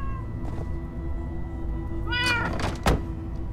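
A cat in Minecraft: Story Mode gives a short meow over a low steady hum, followed by a sharp thud, like a knock.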